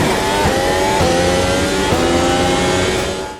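A race car engine screams through a hot lap at the Jerez circuit in a racing video game, loud and close, holding high revs with brief dips at gear shifts before easing off at the end.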